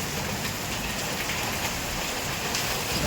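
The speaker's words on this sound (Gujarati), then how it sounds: "જોરદાર વરસાદ થઈ ગયો હે" Heavy rain pours down steadily, a dense continuous hiss of drops on surfaces, loud and unbroken throughout.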